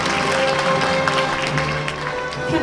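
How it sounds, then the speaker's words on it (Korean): Audience applause fills a ceremony hall at a 104th March 1st Independence Movement Day commemoration in Cheongju, a steady, dense wash of clapping that holds throughout without a break. "여러분들 큰 박수 부탁드리겠습니다"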